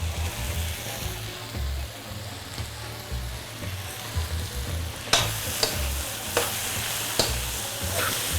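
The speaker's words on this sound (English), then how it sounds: "And I stir a little more." Vegetables and peppers for veg lo mein stirred while frying in a pan, a steady sizzle under repeated scraping and clattering stirs that grow sharper and more frequent partway through.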